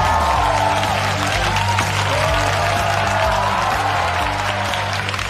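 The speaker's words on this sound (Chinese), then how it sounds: "掌声再次送给变革，厉害厉害。" Studio audience at a Chinese stand-up comedy show applauds in a steady, dense wash of clapping, with a band's sustained musical tones playing underneath throughout.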